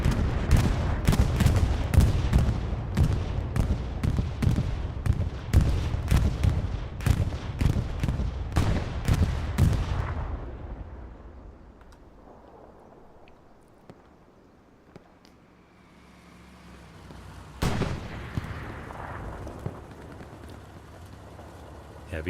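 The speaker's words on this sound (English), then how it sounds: "Bombing run coming up." Bursts of gunfire and artillery blasts from a bombing run in the Hell Let Loose World War II shooter on Omaha Beach, a rapid series of loud booms that fades into a low rumble, then one more late explosion.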